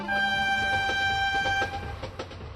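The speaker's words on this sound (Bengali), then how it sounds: "ওই তো ট্রেনের হুইসেলের শব্দ শোনা গেল" A train whistle sounds in an animated cartoon at a station, one long, loud, steady tonal blast that cuts off after nearly two seconds, leaving low rumbling noise.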